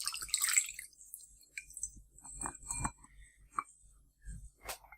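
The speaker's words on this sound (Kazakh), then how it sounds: "Суды, айранды, майды бір ыдысқа құямыз" Water, ayran and oil go into a single bowl for a liver mini-pie dough, heard as scattered close drips, small splashes and wet squishes with quiet gaps between them.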